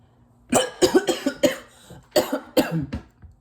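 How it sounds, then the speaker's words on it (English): A run of about seven harsh, hacking coughs in quick succession, close and loud, with a short pause midway. "as soon as I said that, I started coughing"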